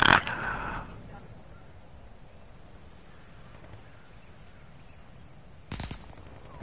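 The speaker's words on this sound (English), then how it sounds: "I got a fucking machine gun, bro." Machine gun fire in a PS4 video game: one short, sharp burst opens the clip and a second brief burst comes near the end, with a low hum in between.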